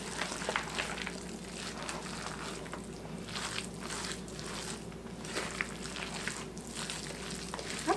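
Shredded cheese stirred into a hashbrown casserole mixture, a soft, continuous wet squishing and scraping that stays fairly quiet and close, with no talking.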